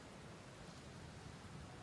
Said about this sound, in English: I hope y'all enjoy the rain and storm ambiance with the music